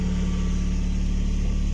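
A car engine running with a steady, close, loud hum, after being started by touching the loosened starter wire directly against metal following a car wash.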